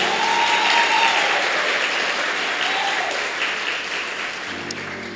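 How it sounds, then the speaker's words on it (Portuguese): A church congregation applauds their pastor with steady, dense clapping that stays loud and even for several seconds before easing slightly at the end. "Se você puder, aplauda o Senhor pela vida do nosso pastor."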